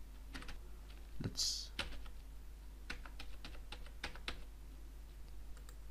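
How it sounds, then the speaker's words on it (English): Numbers are typed on a computer keyboard as a few quiet, scattered key clicks in an irregular rhythm over a low background hum, with a brief spoken word near the start. "So let's type the first number."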